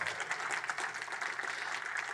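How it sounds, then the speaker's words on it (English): Applause from a conference keynote audience at a Ruby programming event, a steady even wash of many hands heard at a distance, fairly quiet and continuous. "Can we get a round of applause for Beckett, please?"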